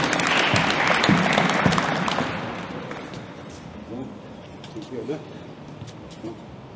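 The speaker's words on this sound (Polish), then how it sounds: "Oklaski." Applause from the crowd at the opening ceremony of a new indoor county swimming pool in Żuromin, Poland, loud and dense at first, then thinning and fading over several seconds with scattered claps and talk underneath.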